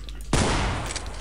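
A single loud shotgun blast in the horror game Afraid of Monsters, fired at zombies, with a sharp onset and a dense roaring tail that fills the rest of the moment.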